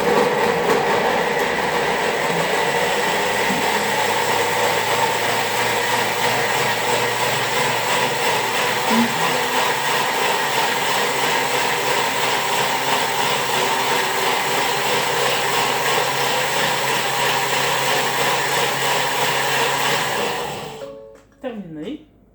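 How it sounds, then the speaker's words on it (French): A Thermomix blender grinding vegetables for tomato cream soup at speed 10 gives a loud, steady roaring whir that holds for about twenty seconds and then winds down and cuts off. "Je broie mes légumes. Donc, ça va faire du bruit, là."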